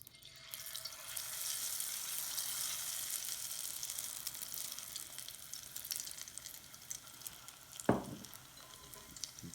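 Battered shrimp tempura sizzles steadily in hot frying oil, a dense continuous crackle throughout with a single brief louder clink or splash near the end.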